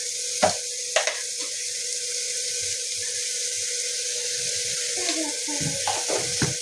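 Asafoetida and turmeric frying in hot oil in a home kitchen pan: a constant soft sizzle, with a few light clinks of a spoon and brief movement noises.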